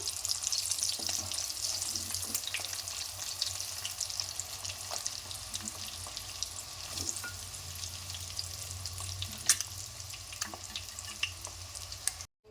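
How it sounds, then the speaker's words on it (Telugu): Eggs frying in hot oil in a pan give a constant bright sizzle and crackle, close and steady, with occasional louder pops and stirring clatter, no voices. "చూడండి ఎగ్స్ కూడా ఫ్రై అయిపోయాయి మనకి వీటిని కూడా తీసేసుకుందాం"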